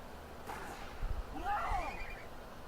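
A horse whinnies once in a Wild West video game setting, a clear rising and falling neigh with a few hoof clops beneath it, standing out over a quiet background.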